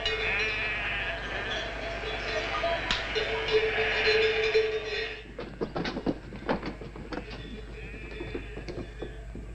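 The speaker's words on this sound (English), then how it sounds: "The sheep are still coming in for milking." Sheep bleat repeatedly as they come in for milking, several calls standing out over a steady low hum, followed by busier clattering and knocking sounds at moderate distance.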